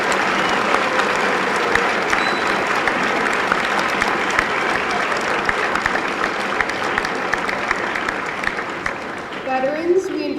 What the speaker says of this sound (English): Join me in giving them one last round of applause.